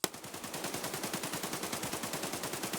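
Sustained full-auto burst from a 5.45 AK-series rifle in a video game, rapid evenly spaced shots in a fast unbroken rhythm after a sharp initial crack, with no talking.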